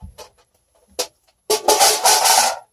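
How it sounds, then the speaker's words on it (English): A Lazy Susan is shifted aside with a couple of faint knocks, then a louder close scraping rumble as it slides across the surface. "I'm going to move the Lazy Susan out of the way."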